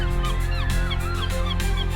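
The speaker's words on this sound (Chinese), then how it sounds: "这片海因鸥鸣而生动" Seagulls calling by the winter sea in Qingdao, a dense flock giving repeated sliding cries near and far over a steady low rumble of wind and surf.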